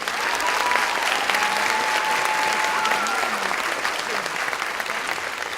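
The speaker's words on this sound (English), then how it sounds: "So let's give them one more round of applause" Sustained applause from a school audience for senior choir members at a Christmas choral festival, steady dense clapping filling the whole stretch with faint crowd murmur and a brief tone in the background.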